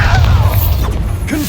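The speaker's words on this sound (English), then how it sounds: "Bombarda!" A Bombarda blasting spell goes off in Hogwarts Legacy, a short, loud booming burst with mechanical rumble, heard close and on its own.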